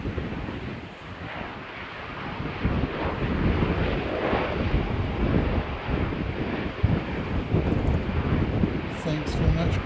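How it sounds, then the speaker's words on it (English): Broadband rumble of a Hercules aircraft waiting at the end of a runway, a steady distant roar mixed with wind buffeting the microphone, with talk heard over it. "we have that Hercules poised at the end of the runway"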